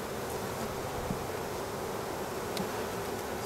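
Honey bees hum in a dense, continuous drone around an open hive being fed syrup, close and steady with no talking.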